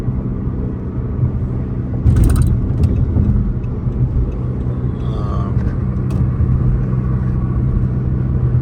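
A red car cruising along the road, its engine and tyres making a steady, close low rumble from inside the cabin that lasts the whole stretch, with a brief louder swell early on.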